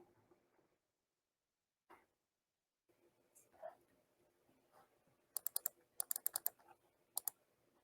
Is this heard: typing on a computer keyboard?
yes